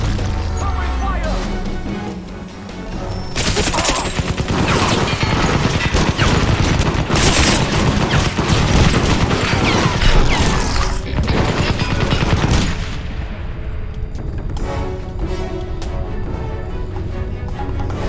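Heavy bursts of video game gunfire rattle continuously at full volume, rapid overlapping shots filling the whole stretch, with shouting voices mixed in under the shooting.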